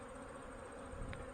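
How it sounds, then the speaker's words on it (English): Honey bees buzzing on a sunny February cleansing flight after weeks indoors, a steady, faint hum of many insects around the hive with no voices. "the bees are just going crazy getting their cleansing flight in because they've been stuck indoors for the last 2 or 3 weeks"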